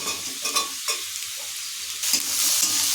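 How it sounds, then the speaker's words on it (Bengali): Chopped capsicum fries in a pan with a steady sizzle, broken by several scraping strokes as it is stirred. The frying grows louder and brighter toward the end, with no voices. "আবার একটু নাড়াচাড়া করে নিচ্ছি।"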